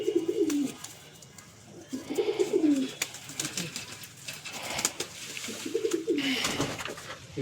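A pigeon gives repeated soft, rolling coos close by, three phrases spaced a few seconds apart over a steady background of indoor noise.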